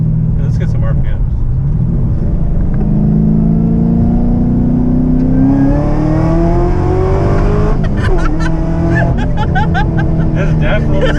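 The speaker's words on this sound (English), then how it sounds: "it definitely is more race car-y sounding versus that old school raspy kind of weird sound" A Camaro ZL1 V8 with an X-pipe exhaust climbs through the revs while driving, a loud smooth rising drone from inside the cabin, with people talking over it.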